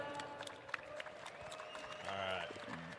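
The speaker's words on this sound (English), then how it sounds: "Give him a round of applause" Audience applause at a Harley-Davidson Flat Out Friday pre-show, a steady crowd patter mixed with background chatter and music that swells louder near the end.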